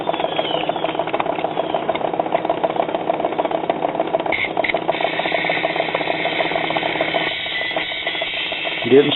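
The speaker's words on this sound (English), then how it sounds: "Getting some needle talk, but that's about it." Faint needle talk from a 1952 Silvertone record player cartridge, a thin scratchy rhythmic chatter running steadily under a low motor hum and mechanical rattle, with no voices.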